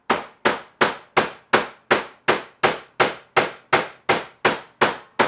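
Fresh summer indigo leaves are hammered onto cloth for leaf-pounding dyeing, giving a steady run of about a dozen sharp, close thuds at an even quick pace, each decaying fast, with no talk.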